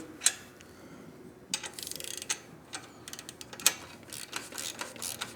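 A 12mm wrench tightens an exhaust bolt while a 2-1 low exhaust system is fitted to a Triumph Speed Twin 1200, giving faint, scattered metallic ratcheting clicks and ticks in short clusters with quiet gaps between them.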